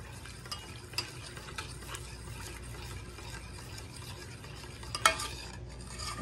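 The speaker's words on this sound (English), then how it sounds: "let's get that stirred up together." A spoon stirs chocolate sheet cake batter in a bowl with soft, steady scraping and a few light clinks against the side, quiet and close.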